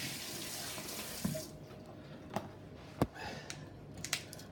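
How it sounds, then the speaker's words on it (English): Kitchen tap water runs over a small knife used to prepare a lobster, a faucet hiss that stops early, followed by scattered clicks and light knocks. "Just going to rinse that off."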